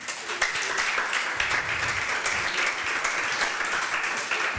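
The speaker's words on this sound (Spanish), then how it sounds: "Ríndele palmas al Señor en esta hora" A church congregation at an evangelistic service claps for the Lord, a dense, continuous round of applause from many hands filling the room.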